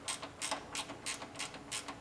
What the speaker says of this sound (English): Now we'll use a ratcheting wrench to get to those last two bolts that are hidden underneath the fender.